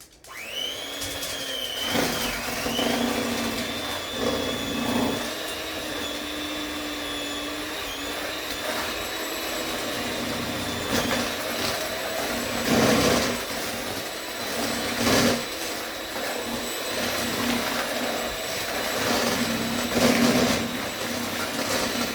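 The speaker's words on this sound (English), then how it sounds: "we're going to take our handy dandy little mixer here. And I'm going to make a mess and whisk it and mix it together." A small electric hand mixer whisks snickerdoodle cheesecake batter, a steady close whir running throughout with shifting pitch and occasional rattles as the beaters move through the bowl.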